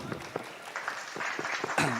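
Audience clapping at a university graduation ceremony in Palembang, scattered and faint at first, then swelling into a fuller round of applause near the end, with a voice speaking over it.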